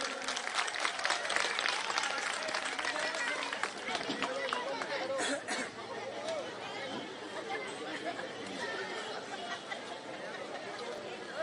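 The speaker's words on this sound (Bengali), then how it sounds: "সবাই করতালির মাধ্যমে ওনাকে স্বাগত জানাবেন" Crowd at a Vijaysankalp Jansabha rally in Town Borduwali welcoming Union Minister Smriti Irani, with dense, sustained clapping and chatter filling the whole stretch at steady loudness, a slight dip midway before carrying on.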